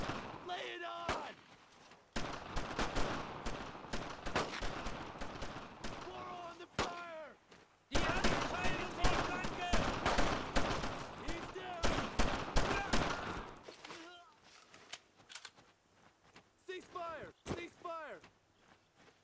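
Dense World War II gunfire in Brothers In Arms: Road To Hill 30, with rapid rifle and machine-gun bursts in loud clusters, brief lulls, and voices shouting over the battle.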